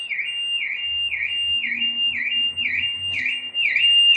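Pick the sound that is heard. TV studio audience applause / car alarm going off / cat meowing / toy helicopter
car alarm going off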